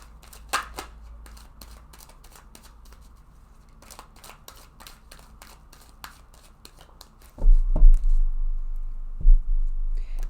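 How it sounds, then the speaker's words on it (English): A deck of tarot cards shuffled by hand: a run of quick, light riffling taps and snaps spread through the clip, fairly close and soft, ending with a few heavier handling thumps, no talk. "I'm going to go ahead and shuffle this deck."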